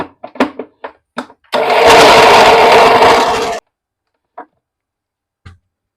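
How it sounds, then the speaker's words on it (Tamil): A kitchen mixer grinder whirs loudly for about two seconds while grinding ragi, sesame seeds and jaggery, preceded by a few sharp clicks and taps and followed by faint knocks. "இப்ப இதை அரைச்சு எடுத்துட்டு வந்துடலாம்."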